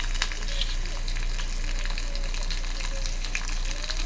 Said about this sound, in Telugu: ఆనియన్స్ ముక్కలైతే వేసి ఒకసారి అయితే కలుపుతున్నాను.